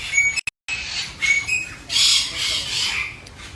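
Loud, harsh squawks and calls from birds in an aviary, several bursts in a row close by, with a brief dropout early on.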